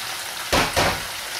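Spring onion dropped into hot oil for ginataang tilapia, two quick bursts of loud sizzling hiss over a steady frying background.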